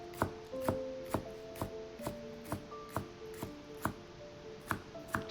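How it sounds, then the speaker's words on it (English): A knife chops about five scallion bulbs into rings on a cutting board, giving a steady series of crisp, evenly spaced close thuds, roughly two per second, with no talking. "we're going to cut some scallion rings,"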